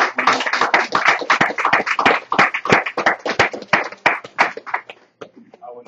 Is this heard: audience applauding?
yes